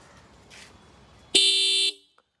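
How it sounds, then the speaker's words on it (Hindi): A single short honk from the dual horn of a TVS Apache RTR 160 4V motorcycle blares loudly for about half a second over faint background noise, then stops. "जरा हॉर्न बजाओ"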